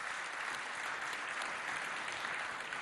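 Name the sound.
audience applause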